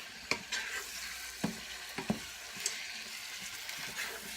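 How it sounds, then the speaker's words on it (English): Spinach is stirred through hot bacon grease with salt in a pan. A steady sizzle runs throughout, broken by several sharp, irregular scrapes and taps of the utensil against the pan at moderate volume. "I'm just going to stir all this up so it gets well combined"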